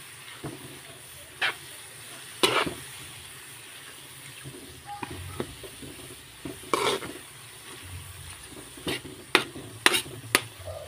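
Ground pork (giniling) frying in a pan with tomato sauce, heard as a low steady sizzle broken by sharp clinks and scrapes of stirring, with a voice talking intermittently.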